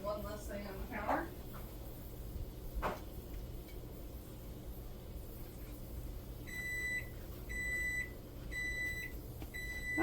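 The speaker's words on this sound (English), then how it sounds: "that is the timer for our macaroni and cheese" A kitchen timer for boxed macaroni and cheese beeps in a steady series of five high, evenly spaced tones over low kitchen background noise, after a few earlier knocks and rustles.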